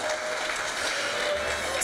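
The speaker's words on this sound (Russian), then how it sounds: "Ну-ка давайте поддержим ведущих гранд-балла. 3-4 аплодисменты!" Applause from a concert hall audience at a grand ball show, a steady dense wash of clapping, moderately distant and even throughout, with no talk over it.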